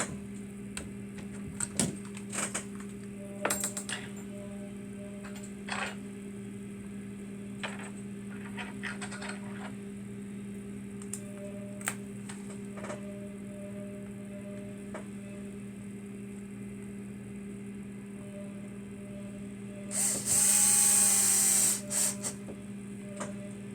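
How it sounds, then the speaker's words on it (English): A power driver drives screws during a GMade GOM kit build. A short whirring burst rises in pitch near the end, after a long stretch of steady hum with scattered light clicks and handling noises. "tonight we're using the power driver"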